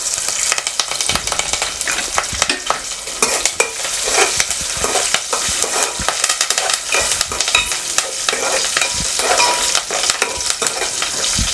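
Cumin, coriander seeds and curry leaves fry and crackle in hot oil while being stirred, a steady dense sizzle with scraping spoon strokes running throughout, close and fairly loud.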